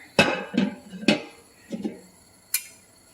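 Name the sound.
pan being moved onto the stove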